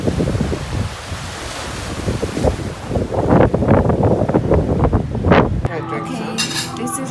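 Ocean surf at a Cuban waterfront, a steady broad wash with wind buffeting the microphone, swelling louder toward the middle before an abrupt cut to quieter ambience with faint murmuring voices.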